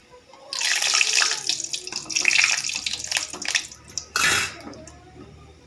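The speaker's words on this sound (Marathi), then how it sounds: "हे बघा, छान होत आहेत, मस्त तळतायत." Gulab jamun balls frying in hot oil in a home kitchen pan, a steady loud hiss and sizzle that swells and fades, with a sharp fresh burst near the end as more oil bubbles up.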